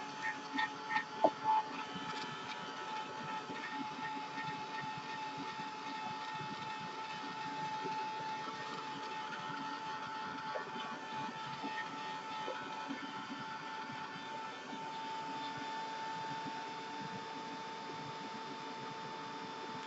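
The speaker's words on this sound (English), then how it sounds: "Okay, I'm going to hit this with the heat gun." A heat gun blows steadily while drying a finish in a workshop, a continuous whirring hum held at even loudness from start to end, with a few faint clicks and knocks near the beginning.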